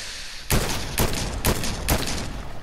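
Four sharp, loud bursts of gunfire crack in Fortnite, spaced roughly half a second apart over a low background din.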